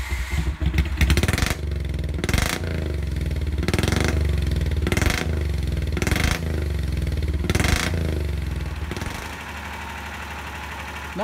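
A 420cc street engine running on Speeduino fuel injection, idling loud and close with a steady low rumble broken by about six rhythmic bursts of revving, then settling back to a rougher idle near the end.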